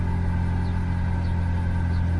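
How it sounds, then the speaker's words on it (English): A Toyota Tacoma engine idles right after its first start-up, a steady low rumbling hum with a constant droning tone, close and unchanging throughout. "Let's try to see if it cranks. Ooh, turned right on."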